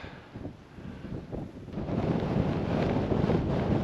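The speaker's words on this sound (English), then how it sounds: "this wind is really bad up here" Strong wind buffeting the microphone at Sky Pond in Rocky Mountain National Park: a loud, continuous roar that swells and grows stronger through the second half, with no voices.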